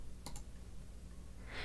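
Two quick computer mouse clicks close together, faint and isolated against a quiet room background, followed by a soft rustle.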